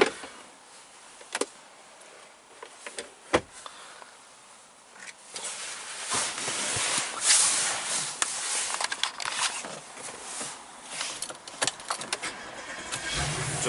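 An Audi S5 coupe's 4.2 V8 cranks with a few sharp clicks and thumps, then fires and settles into a steady, full idle that carries on loudly and close by, with no talking over it.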